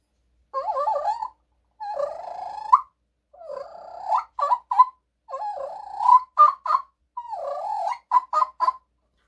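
A turkey hen calls in a run of five clear yelping bursts, each phrase rising to a sharp high-pitched note at its end, close and alone with no talk.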